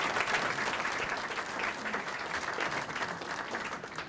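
An audience claps in sustained applause after a state senator is introduced at a hospice event, a steady wash of many hands with no voices over it.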